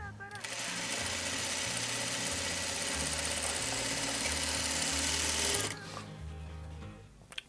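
Sewing machine stitching quilt blocks together, a loud continuous mechanical whir with a fast rhythmic needle chatter running for about five seconds before stopping abruptly, followed by quieter handling noise.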